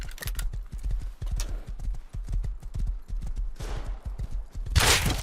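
Horse hoofbeats thud in rapid, steady galloping rhythm in the video game Rust, close and loud, with a burst of gunfire and rustling noise near the end.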